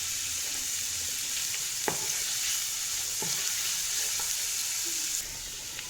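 Ginger and garlic frying in hot, spattering oil: a loud, dense hiss that runs throughout, with a couple of light utensil taps in between.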